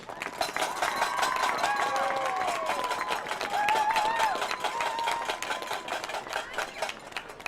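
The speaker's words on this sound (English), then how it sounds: "please give a round of applause to all of tonight's seniors" Audience at a high school senior night for FFA, band and choir seniors, applauding steadily with dense, continuous clapping and some cheering voices throughout.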